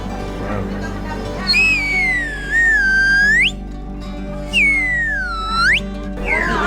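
A person whistles two long tones, each bending down and then sliding sharply upward. The whistles are clear and close, with a pause between them, over a steady low hum of background noise.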